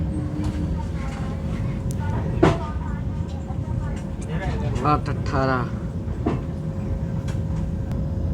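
Tejas Express train pulling into Kanpur Central station, a steady rumbling rail noise with occasional clanks and squeals, heard from on board beneath nearby talk.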